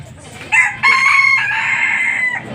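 A mestizo bantam rooster crows once, loud and close, a strained two-part call over faint background noise.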